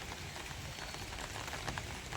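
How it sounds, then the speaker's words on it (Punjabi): Continuous heavy rain falling on a town street beside a government senior secondary school in Tapa, a dense steady wash of drops with no voices. "ਲਗਾਤਾਰ ਤੇਜ਼ ਬਰਸਾਤ ਹੋ ਰਹੀ ਹੈ"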